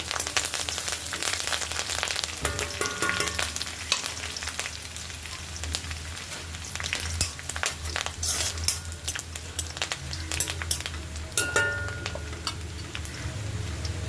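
Curry leaves crackle and spit in hot oil for a date and bilimbi pickle, with a busy, close, continuous sizzle broken by sharp irregular pops and ticks.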